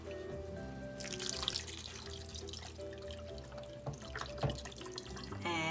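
Broth pouring into a pot of minestrone soup with tomatoes, a steady liquid splash and trickle running for several seconds at moderate, close range, with faint kitchen clatter and no talk.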